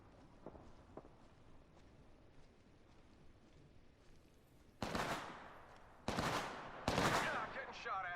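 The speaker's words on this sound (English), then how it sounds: "Opening fire." Video game gunfire in a battle royale match, three loud close bursts of shots arriving in succession after quieter movement and faint clicks.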